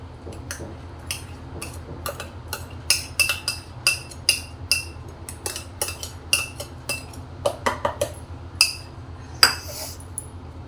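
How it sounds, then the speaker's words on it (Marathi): A whisk or spoon clicks and taps against a bowl in quick irregular strokes while mango pulp is beaten into powdered sugar, bright clinks repeating throughout over a quiet background. "आणि फेटून घेऊया"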